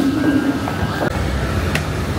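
A Paris metro train rumbles through an underground station with a steady low roar and a few brief squeals and clanks, loud and close, with no speech.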